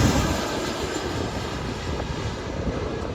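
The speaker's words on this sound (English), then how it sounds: "watching the planes take off." Airliner taking off at an airport, heard from a grassy viewing area where people sit watching: a loud, steady, broadband jet engine roar that fills the whole moment without a break.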